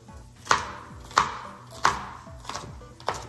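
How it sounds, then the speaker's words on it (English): A knife roughly chops peppers on a cutting board, giving five sharp, evenly spaced thuds about two-thirds of a second apart, loud and close, with no talking. "we're just gonna give it a rough chop to go into the pot here"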